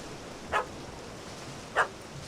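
In the video game The Witcher 3, a puppy gives two short, faint yips about a second apart, somewhat distant over a quiet background.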